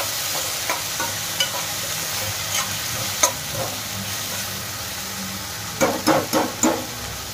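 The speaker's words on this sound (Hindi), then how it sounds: "टमाटर को मिक्स कर लेते हैं।" Chopped tomatoes and onions being stirred together in a frying pan for a tinda (apple gourd) curry, a steady sizzle broken by sharp spoon scrapes, with a quick cluster of stirring knocks near the end.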